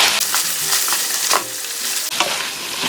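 Softened bracken fern is stir-fried in a pan with chopped green onion, a loud continuous sizzle broken by repeated scraping strokes of a spatula.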